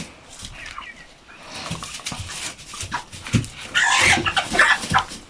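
Broiler chickens and roosters cluck and squawk in a busy flock, growing louder toward the end, with a dog-like whimper mixed in.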